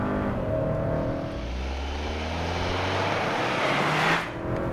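A 2022 Hyundai Santa Cruz pickup with a dual-clutch transmission launches at full throttle, its engine note climbing steadily under continuous road and wind noise before a brief dip near the end; no talk.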